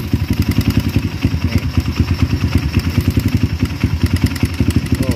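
A Kawasaki KLX motorcycle engine idling loudly and close up, with a fast, steady ticking clatter riding on the rhythmic thump of the single cylinder throughout.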